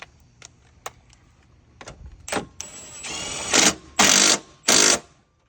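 Stainless 12 mm strut bar bolts on a Ford Explorer ST are locked down with a power tool, first as light scattered ticks, then three loud, sustained bursts close by, with no talking.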